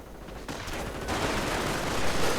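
Dense, continuous battle noise from a World War II strategy game, with machine gun and rifle fire blending into a rushing wall of gunfire that swells slightly louder over a couple of seconds.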